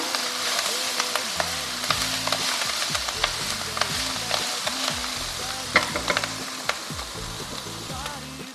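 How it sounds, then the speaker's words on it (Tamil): Grated coconut stirred into Athoor-style Sesbania grandiflora leaf poriyal frying in a pan, a steady close sizzle with repeated rhythmic spatula scrapes and taps throughout. "சேர்த்து சேர்த்து ஒரு மிக்ஸ் பண்ணிவிட்டு அடுப்பை ஆஃப் பண்ணிடலாம்"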